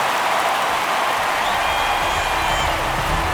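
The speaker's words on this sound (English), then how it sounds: "That fires up the home crowd." A home stadium crowd in MLB The Show 23 erupts after a home run, a dense, loud wash of cheering and applause that holds steady throughout the short burst.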